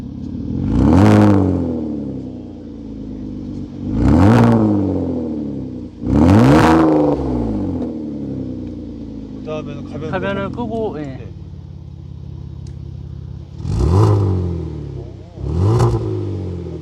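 Loud, sharp revs burst out repeatedly from a tuned Hyundai Grandeur HG 300 with its variable exhaust valve open, each rising and falling back, close to the exhaust, with a short stretch of talking in between.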